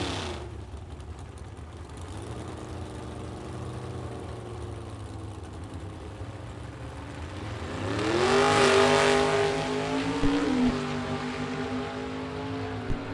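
Two classic Chevrolets launch side by side at a vintage drag race, a steady rumbling idle building into a loud, roaring surge of acceleration whose pitch climbs and then fades away.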